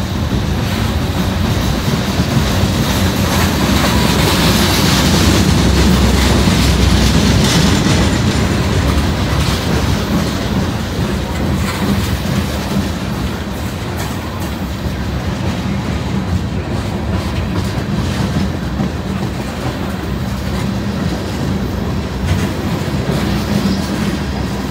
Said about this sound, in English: This is a long train right here. It's going real slow, but this is still a long train.